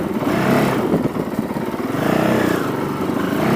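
A Honda CRF450L motorcycle engine runs steadily and loudly up close as the rider sets off, its rough mid-pitched drone rising and falling slightly.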